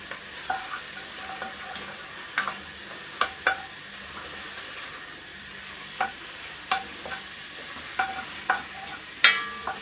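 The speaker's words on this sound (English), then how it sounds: "Really cook out that flour." A spoon stirs flour into a beef and ale casserole in a pan, giving repeated sharp scraping clinks against the pan over a soft, steady sizzle of frying.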